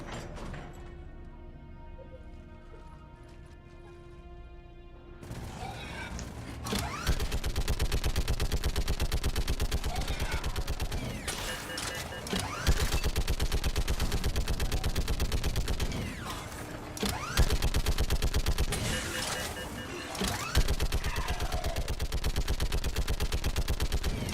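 Gunfire from the game Mass Effect 3, with rapid bursts of automatic weapon fire that go on and on, loud and close, broken into several long volleys after a quiet opening with music.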